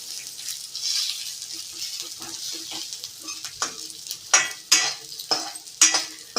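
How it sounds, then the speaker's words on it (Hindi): Coarsely crushed garlic fries in hot oil for a pumpkin-leaf dalma, sizzling softly throughout while a utensil scrapes and stirs the pan in several louder strokes toward the end. "इसे अच्छी तरह से हमें भूनना है लहसुन को"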